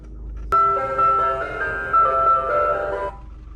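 An ice cream van chime plays a tinkly melody, starting abruptly and running for a few seconds before cutting off, fairly near and clear.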